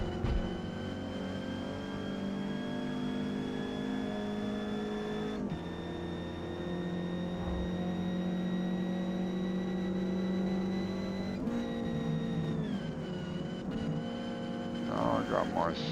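A Ford Cortina racing in D class at Grand Oak Raceway in Forza Motorsport drones continuously, its engine note holding and shifting through gear changes, with a person talking over it throughout.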